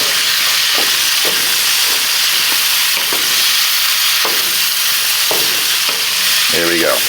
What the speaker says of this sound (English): Give that pan a toss and start cooking the onion down with your bacon.